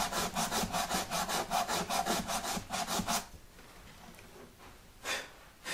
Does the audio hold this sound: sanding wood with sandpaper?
yes